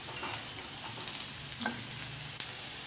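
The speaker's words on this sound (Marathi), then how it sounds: "2 मिनिटातच आपला कांदा करपला आहे." Chopped onion frying in a hot pan for a spicy Maharashtrian chicken curry, a steady close sizzle with occasional stirring scrapes and one sharp click near the end.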